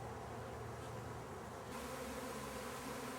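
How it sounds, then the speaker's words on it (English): Honey bees swarming around hives after being blown out, a dense continuous buzzing drone, close and steady throughout with no voices. "you can see the bees moving around, and then they'll congregate back in front of the hives"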